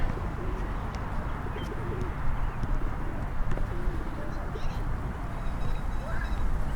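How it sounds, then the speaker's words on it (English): A flock of pigeons coos and flutters in Dobson Ranch Park, soft cooing and wing noise set within a dense, steady outdoor ambience, with faint distant calls and no talking. "A lot of pigeons flying in."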